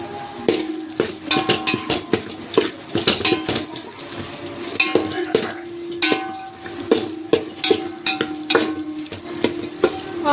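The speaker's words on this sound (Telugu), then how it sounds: "ఆనియన్ ఫ్రై అయ్యేంత వరకు కూడా హై ఫ్లేమ్లోనే పెట్టుకుందాం" Onions frying in butter in a pan over high flame, with a steady sizzle beneath frequent clattering stirs and scrapes of a utensil against the pan, close and fairly loud throughout.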